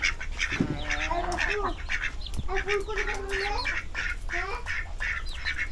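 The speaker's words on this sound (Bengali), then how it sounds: "এই যে অনেক হাঁস আছে" A flock of ducks on a riverside char quacks steadily and close by, with repeated nasal calls overlapping throughout while people talk over them.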